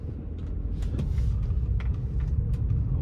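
A BMW F10 535i accelerates hard, heard as a deep, continuous engine rumble and road roar, fairly loud and close, with no talk over it.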